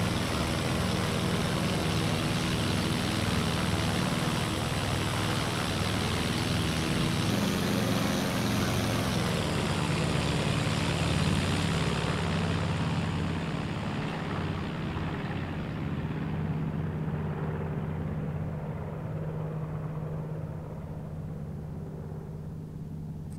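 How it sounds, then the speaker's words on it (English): A de Havilland Tiger Moth biplane's engine in the video game IL-2 Sturmovik: Cliffs of Dover gives a steady drone, moderately loud and continuous, that rises slightly then gradually fades as it moves farther away. "That engine does sound quite good from a distance."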